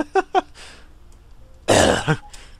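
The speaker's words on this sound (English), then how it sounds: "I'm gonna cough in a second." A man coughs twice sharply, pauses, then gives a loud, raspy throat clearing followed by a short grunt, all close and alone.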